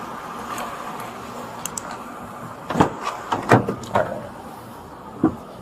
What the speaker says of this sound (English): You want to just open the door?